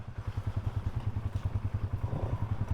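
An off-road motorcycle engine on a washed-out canyon trail throttles in a fast, regular pulsing chug, loud and close, with some clatter, and no voices.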